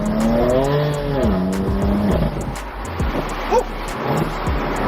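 A car being driven hard, its engine revving loudly and rising and falling in pitch, with tyres squealing and skidding across the surface in a steady, close, continuous roar.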